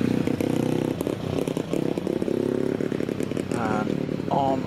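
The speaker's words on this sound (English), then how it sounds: "Through the S's then goes the Ducati." A Ducati racing motorcycle roars through the S bends at the Prescott hill climb, its revving engine loud and continuous with quick gear changes, while a commentator talks over it.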